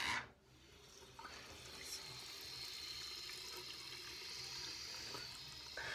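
Water runs steadily from a tap in a continuous, fairly quiet gush, after a short louder burst at the start.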